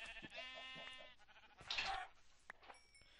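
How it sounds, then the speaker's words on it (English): A Minecraft sheep gives a few close, clear bleats, with soft game sounds in between. "Now, slaughter the sheep."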